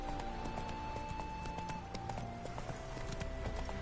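Roach the horse gallops in The Witcher 3 video game, a fast, even clip-clop of hooves running continuously at moderate volume over a soft background of sustained musical tones.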